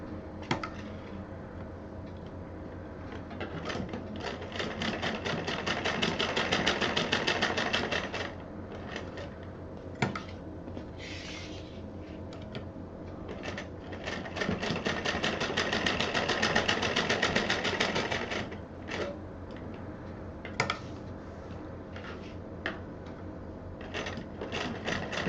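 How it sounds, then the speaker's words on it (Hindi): A sewing machine stitches a purse in close, rapid mechanical bursts, running in long busy stretches separated by short pauses and single clicks, with the rhythmic whir rising and falling in speed. "यहाँ पर डबल सिलाई"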